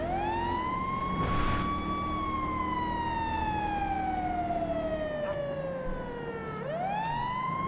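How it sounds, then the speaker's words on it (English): A loud wailing video game siren sweeps slowly down and then rises again, close and continuous, with a low engine rumble beneath. "Surely you heard the sirens."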